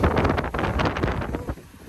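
Strong, gusty wind buffets the microphone aboard a trawler anchored among other boats, a steady rough roar with no voices.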